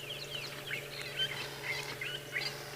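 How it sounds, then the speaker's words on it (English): Wild bird calling at sunrise on an African safari, a series of clear, bright whistled chirps and short trills repeating irregularly over a soft, steady background hum, moderately distant and alone without talk. "It's a beautiful bird call."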